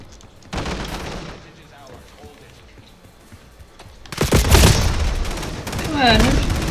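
Rapid gunfire in Black Ops 7 on the Nuketown map: a few scattered shots give way to a loud, dense burst of automatic fire in the second half, with sharp cracks and echoing tails.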